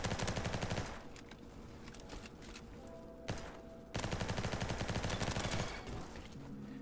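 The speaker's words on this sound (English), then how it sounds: "The hipfire on the MP5 is not the best, not the worst." MP5 submachine gun fire in Roblox Bad Business: two long, dense automatic bursts, one at the start and another after a short pause, loud and close with quieter game sounds in between.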